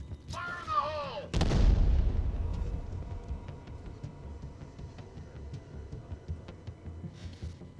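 Grenade explosions in the video game Batman Arkham Knight, one sharp blast followed by a deep rumbling boom that fades into a crackling tail, preceded by a short swooping sound, with a voice speaking briefly.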